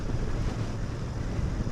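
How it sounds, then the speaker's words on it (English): Steady, heavy wind buffeting the microphone while riding a new Royal Enfield Super Meteor 650 on a very windy day, a constant broadband roar with low rumble throughout and no voices. "It's an extremely windy day here, so this will be a really good test."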